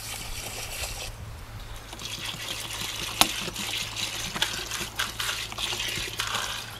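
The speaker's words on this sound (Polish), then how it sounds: "Ziarna zalewamy." Well water pours steadily over grain in a container to make carp bait, a continuous splashing gush with a few small knocks and clinks.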